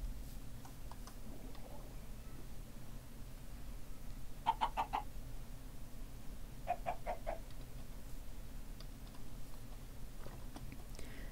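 Minecraft chickens clucking in a short burst and then a second brief run of clucks, moderately close over a steady low in-game background hum.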